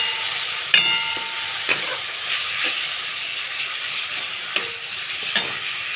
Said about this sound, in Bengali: মশলাগুলো কষে নেব।